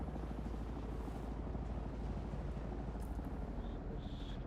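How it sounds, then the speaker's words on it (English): A helicopter in the video game Dune: Awakening drones with a steady low rotor thrum, constant and fairly distant, with no talk over it. "That's a helicopter."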